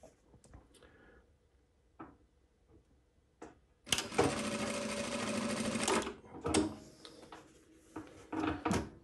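A Juki DDL-900C industrial sewing machine runs a loud, steady burst of stitching for about two seconds, then a shorter run, amid clicks and clunks of the machine's mechanism between bursts, heard up close.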